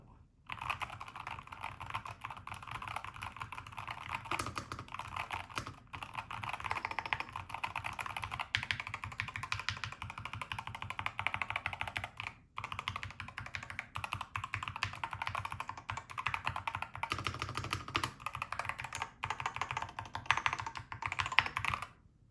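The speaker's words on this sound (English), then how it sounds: "I never actually recorded a typing sound of the keyboard or what the keyboard sounds like when typing." Typing on a Keychron K2 HE keyboard with magnetic switches, a steady stream of close, fast keystrokes clattering for over twenty seconds with a brief pause midway and some keys sounding a bit different.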